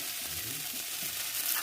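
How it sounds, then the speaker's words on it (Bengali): Onions fry in a pan with cumin and bay leaves, giving a brief, close crackling sizzle that stays steady for under two seconds. "পেঁয়াজ ভাজা হয়ে গেছে।"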